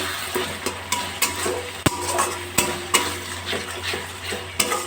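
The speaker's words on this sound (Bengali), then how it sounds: "পরিমাণ মতো ধনে গুঁড়ো দিয়ে দিলাম এবার মশলাটা একটু নাড়াচাড়া করে দেবো" Ground cumin and coriander spice mix frying in oil in a pan over a low gas flame, stirred with a utensil that scrapes the pan in regular strokes under a steady close sizzle.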